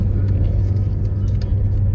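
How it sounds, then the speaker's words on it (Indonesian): Evening road traffic on a bypass flyover at Rawa Halim, with a red Rosalia Indah bus ahead: a steady, loud low car rumble and engine drone with no break, no talk. "situasi lalu lintas di bypass nih"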